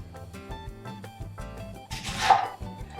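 A knife cuts around the core of a fresh pineapple, giving soft, close chopping and slicing strokes, with a louder rasping cut near the end over a faint musical background.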